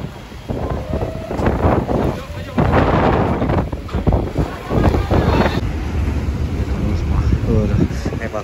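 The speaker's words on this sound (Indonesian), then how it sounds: "Hujan angin nih, tambah hujan angin ya." Strong wind gusts and rain roar across a stormy harbor where a truck has fallen into the sea, a loud broadband rush that swells and dips steadily throughout, with voices talking underneath.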